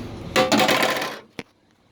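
A metal tire tool from a 2019 Ford Transit 150 clatters as it's set down, a brief rattling jangle followed by a single sharp clink, then quiet.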